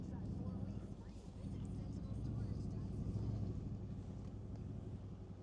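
Steady road and engine rumble with wind noise from inside a moving Mercedes C63s fitted with BMW G80 M3 wheels, a continuous loud drone with a person talking over it.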